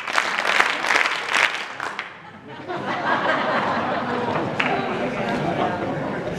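Audience at a Kilema show in the Jai Alai clapping in response, bursts of handclaps from a crowd with some chatter and laughter, loud at first, dipping briefly, then continuing as a steadier mass of claps.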